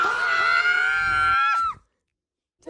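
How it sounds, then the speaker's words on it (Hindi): A girl screams loudly in one long, high, sustained shriek lasting under two seconds, then it cuts off sharply into silence before a brief sound at the very end. "चीख रही हूँ मैं"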